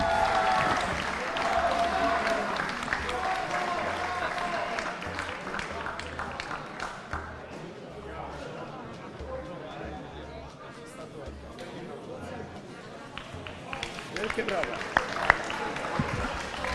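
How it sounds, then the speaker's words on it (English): Applause from the crowd at a kart championship award ceremony, a dense wash of clapping mixed with chatter and hubbub, with a voice talking over it throughout in a large indoor space. "Big applause for these ladies who drive very fast"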